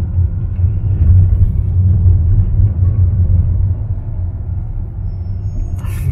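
Inside a car on the narrow, winding old Karak road in Malaysia, a steady low engine and road rumble holds constant and fairly loud, then eases slightly near the end, with no talking.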